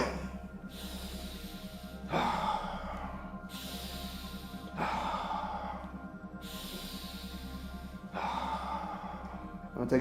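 Deep rhythmic breaths in and out during a guided breathwork exercise, close and clear, in slow repeating cycles of about four rising inhalations over a steady low background tone.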